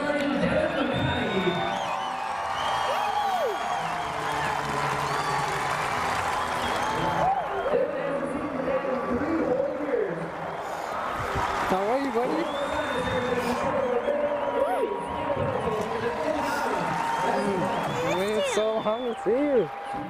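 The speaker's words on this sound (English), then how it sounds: "thousands in the crowd stood up to applaud" A ballpark crowd applauds and cheers steadily as thousands stand, a dense continuous wash of clapping and whoops heard under a voice speaking throughout.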